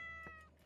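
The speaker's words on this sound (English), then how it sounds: "The cat!" A cat meows once near the end of a short stretch in the game Dungeon Hotpot, a clear close call rising out of steady background music.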